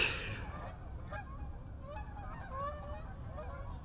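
A large flock of geese flies over a big city in Canada, and honks overlap near and far in the distance. The calls are fairly faint and sit over a steady low hum.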